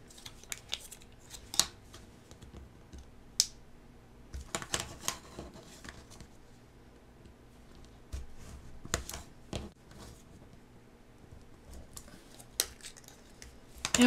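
Scissors snip an opening in a Dollar Tree container for a round DIY tissue holder, scattered quiet crisp cuts with gaps between them, close and soft, no talk.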